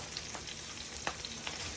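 Collard greens frying in a pan, a steady low sizzle and crackle running throughout with a few brief sharper pops, close by and with no talking.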